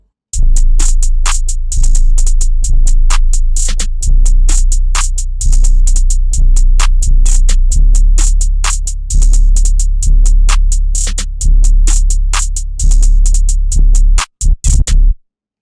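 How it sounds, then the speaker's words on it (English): A full electronic drum pattern plays: booming sub-bass kicks under crisp, rapid hi-hats and snappy hits, steady and loud with no voices. "So altogether, the drums sound like this."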